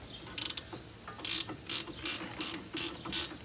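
Ratchet wrench clicking in quick, regular bursts of about eight strokes while brake caliper bolts on a 2005 Honda Pilot are loosened, close and fairly loud with no talk.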